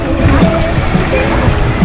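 Water from fountains splashing and spattering steadily at an outdoor water park, a dense continuous wash close to the listener with no speech.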